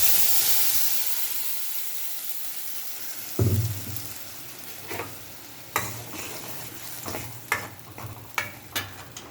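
A ground chutney mixture poured into a hot tempering of urad dal in oil, a steamy hiss and sizzle followed by bursts of bubbling and spoon scrapes, close by.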